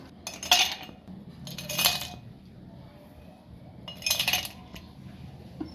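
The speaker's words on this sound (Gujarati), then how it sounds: "હવે આપણે ગ્લાસમાં પહેલાં નાખી દઈશું બરફના ટુકડા।" Ice cubes drop into two glasses for a basil-seed and raisin sherbet, giving three separate bright clinking bursts spaced apart against a quiet room.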